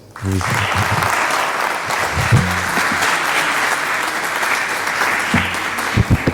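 Applause from the audience at a public talk-and-debate event in France, steady broadband clapping filling the room for several seconds, with low voices and a few louder bursts near the start and end.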